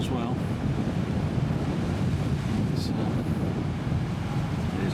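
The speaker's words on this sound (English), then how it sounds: "There's quite a strong wind blowing as well." Strong wind buffeting a ship on rough seas near Antarctica, a constant loud roar and rush of air mixed with wave noise, close to the microphone and without a break for the whole five seconds.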